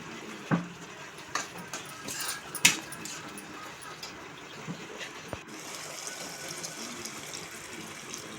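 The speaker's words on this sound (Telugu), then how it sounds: "అప్పుడు కాసిన వాటర్ పోసుకుని" Water runs steadily from a tap or spout, a continuous splashing pour with a few clinks and knocks near the start.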